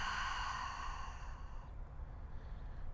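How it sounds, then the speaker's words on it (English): A long, soft exhale through an open mouth in a calming breathwork exercise, a single breathy sigh close to the microphone that fades to quiet. "Big inhale. Open mouth, exhale."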